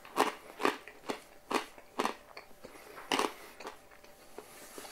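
Crispy crackling on a pork roast cooked on a gas grill, bitten and chewed in about ten sharp crunches spaced roughly half a second apart, close and distinct with no talking.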